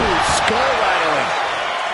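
Heavy slam of a knee strike landing in the wrestling video game WWE 2K25, a loud thud near the start over a constant roar of arena crowd and commentary.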